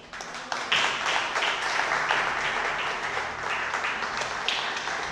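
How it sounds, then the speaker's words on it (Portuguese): A church congregation claps and applauds for several seconds, a close, steady wash of many hands with a few sharper individual claps. "Palmas para Jesus."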